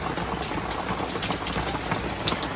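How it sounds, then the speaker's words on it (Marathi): Steady rain patters on a surface with scattered drops and a low background hum, continuous and fairly close, with no voices. "पाऊस काय थांबाचं नाव घेत नाही"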